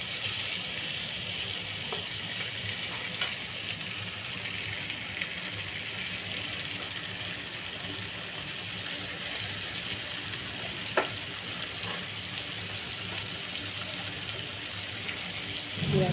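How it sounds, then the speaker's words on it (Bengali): Onion and capsicum stir-fry in a hot pan with a steady, dense sizzle throughout, broken by an occasional scrape or clink of a spatula stirring close by. "পেঁয়াজ ক্যাপসিকামটা দিয়ে অল্প একটু নাড়াচাড়া করে"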